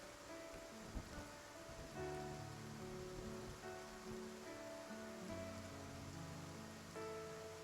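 Steady game-world rain in Love and Deepspace, a dense continuous patter across the whole stretch, with soft background music tones running underneath and no speech.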